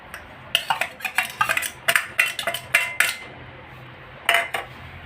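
A spoon scrapes and clinks against a pot while tapioca is stirred with grated coconut and curry leaves, in a series of short, sharp metallic strokes with brief pauses between them.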